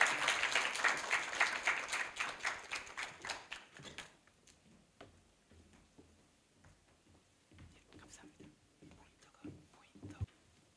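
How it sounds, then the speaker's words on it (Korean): Audience applause for a statistics professor in a large university lecture hall, fairly loud clapping that fades out after a few seconds, followed by scattered light taps and soft room noise. "여러분들 통계학과 신순인 교수님께 큰 박수 부탁드리겠습니다"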